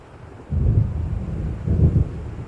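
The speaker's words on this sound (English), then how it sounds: "It seems there's a storm coming." A thunderstorm in the video game Alan Wake Remastered rumbles low and heavy in two rolling swells over a bed of wind noise, with no voices.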